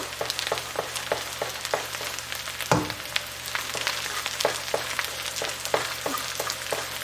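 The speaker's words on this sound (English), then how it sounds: "And now just scramble the egg, just like so." Egg frying and being scrambled in a pan for Hawaiian fried rice, with a steady close sizzle, a run of light scraping stir strokes and one louder clatter of the utensil about midway.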